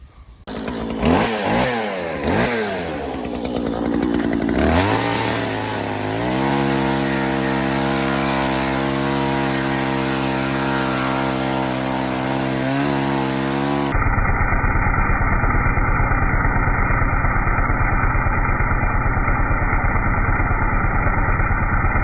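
A chainsaw with a badly dulled chain starts with a few sputtering pulls, then settles into a loud, steady engine drone that revs and holds close by, continuing without speech.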